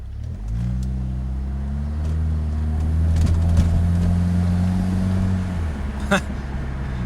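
Saab car engine running as the car pulls away for a cruise after new spark plugs, a steady low drone that gradually rises in pitch, heard from inside the car.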